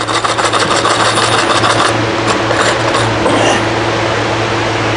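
Hooks are screwed into wood to hang plaques, giving a loud, close, continuous grinding rasp with a steady motor-like drone underneath and rhythmic scratchy pulses that ease off toward the end.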